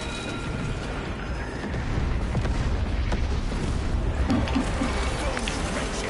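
A detonation in Warhammer 40,000: Space Marine 2 sets off a deep, sustained roaring rumble of explosions that swells and holds steady in the game's soundscape.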